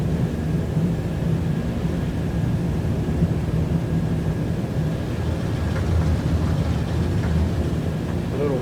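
Vintage DC-3 airliner engines roaring steadily through a takeoff run in a flight simulator game, a dense continuous drone that holds loud and even throughout with no voices.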